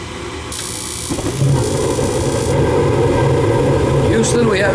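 Gas furnace igniting and running after new gas pipe was installed; a loud steady roar of burner and blower fills the space, with a brief bright hiss at the start.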